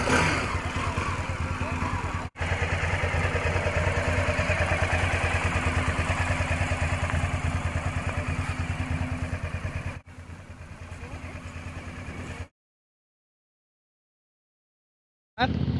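A Pulsar 200NS motorcycle engine runs close by at a steady throbbing idle for several seconds, cuts out briefly, returns quieter, then stops into silence before a last short burst.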